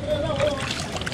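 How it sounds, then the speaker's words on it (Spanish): Clean water circulating and splashing while fish are washed for a fish stew in an outdoor kitchen, a steady close splatter with a voice speaking over it. "Aquí en el agüita que está circulando, como pueden ver, está circulando el agua, ¿ves?"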